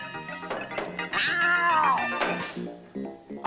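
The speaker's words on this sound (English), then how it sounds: "A cat." A cartoon cat gives a drawn-out, wavering meow close up, preceded and followed by short clipped vocal sounds and a soft thunk at the end.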